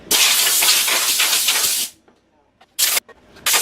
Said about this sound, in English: sorry for the air compressor, that'll go off in a minute